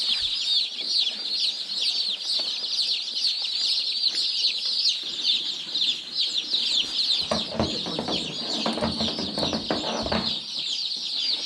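Crowd of newly hatched chicks peeping continuously in a dense, high chorus, close and loud, with brief rustling and shuffling sounds near the end.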